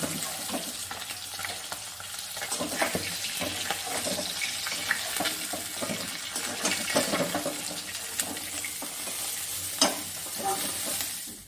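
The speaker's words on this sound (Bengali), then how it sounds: "মাছগুলো সব ভাজা হয়ে গেছে" Pabda fish frying in oil in a home kitchen, a steady close crackle and sizzle with scraping stirs running throughout, no talking.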